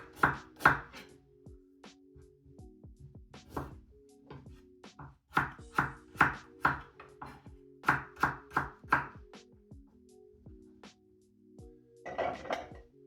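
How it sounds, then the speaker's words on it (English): Ginger sliced with a knife on a chopping board: a run of crisp knocks, first sparse, then a quick rhythmic burst of cuts, then a final cluster, close and clear, with no voices. "I'll grab my chopping board. So I'll give my ginger, slice it down slightly."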